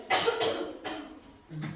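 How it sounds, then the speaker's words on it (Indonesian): A woman coughs in a classroom, several short harsh bursts in quick succession, close and fairly loud. "Maaf ibu agak batuk."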